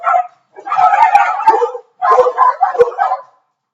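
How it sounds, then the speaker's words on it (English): Several household dogs barking and yipping loudly and close by, in two excited bursts of overlapping high-pitched barks and yelps with a short pause between them. "I do have dogs, okay, and I can't lock them up. I won't lock them up. So sometimes they may become very vocal."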